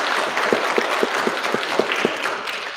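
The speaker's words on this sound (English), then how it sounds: "So do me a favor and give yourselves a round of applause." Graduates of a funeral service institute applaud themselves at their fall commencement in a sanctuary, a full, sustained crowd clapping with a steady pulse of distinct nearby claps running through the wash.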